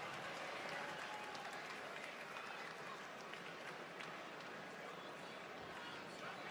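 A sellout wrestling crowd fills the Allstate Arena in Chicago with a continuous roar of applause and cheering, broad and dense, steady from start to finish with no clear voice standing out.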